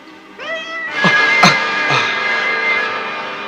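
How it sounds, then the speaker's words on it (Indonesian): A cat meows loudly and close by, a short call followed by a long, drawn-out wailing meow. "Kucing itu telah membuat aku kaget."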